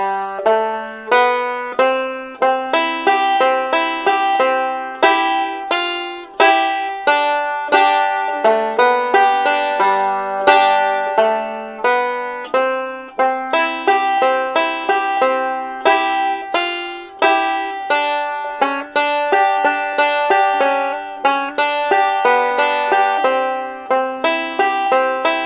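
A bluegrass banjo plays the A part of John Hardy alone, with bright, rapid plucked rolls that ring continuously and steadily, close and loud for the whole stretch.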